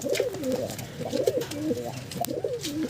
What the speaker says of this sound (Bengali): এই যে দেখুন জ্যাক পায়রা দেখুন বাচ্চা ফুটেছে জ্যাকের